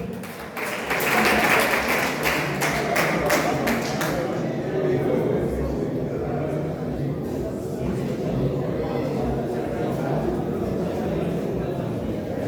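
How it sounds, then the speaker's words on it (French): Crowd applause at a funeral wake, a broad steady wash of clapping from many hands filling the room for the whole stretch, with a murmur of voices and some thumps underneath. "On applaudit, on applaudit."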